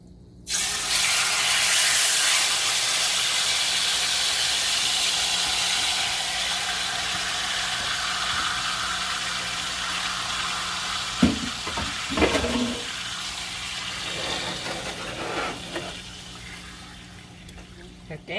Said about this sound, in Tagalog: ibuhos ko lang tong marinated pork chop sa mainit natin kawali